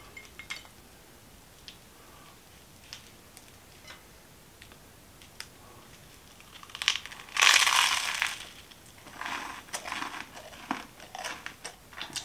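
Close-up crunchy chewing with sharp crackling bites, a loud burst of crunching in the middle followed by slower, scattered chews.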